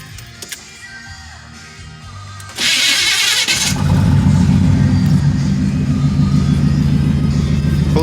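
A car engine cold starts after a quiet stretch, a short loud cranking burst catching into a steady, loud, rumbling idle that carries on to the end, close by.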